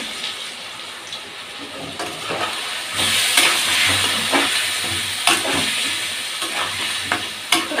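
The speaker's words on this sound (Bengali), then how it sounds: "কষিয়ে নিচ্ছি।" Onion masala paste is sautéed with green chillies in a pan, giving a steady hiss of frying under repeated scraping and stirring strokes at close range.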